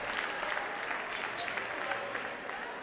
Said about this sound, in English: You can hear the crowd starting to go wild.